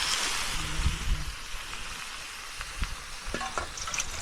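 Small shrimp fry in hot oil with garlic as a splash of water goes in, giving a steady close sizzle with occasional stirring scrapes and clinks and no voices.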